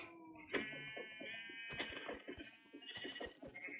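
Several sheep bleat in the video game Minecraft, quavering calls repeating close by one after another.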